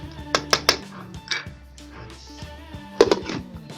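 A spoon scrapes and clinks against a metal pot while chickpea curry is stirred, several sharp metallic taps and knocks, with a final clatter as a lid likely goes on.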